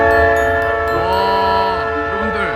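Train passing through Alaska near a fishing spot, loud sustained horn chords and a heavy rolling rumble, close and continuous, with a voice briefly underneath.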